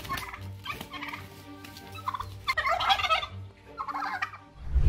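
Four large turkeys gobble in repeated bursts, fairly close, as a rooster confronts them, with softer clucks and rustling between the calls.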